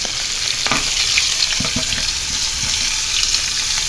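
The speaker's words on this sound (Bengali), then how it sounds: "কিছুটা তেল দিয়ে কফিটাকে একটু তেলের মধ্যে নাড়াচাড়া দিয়ে নিব" Cauliflower pieces frying in oil in a pan with an occasional stir, a steady close sizzle and crackle with a few soft utensil scrapes and knocks.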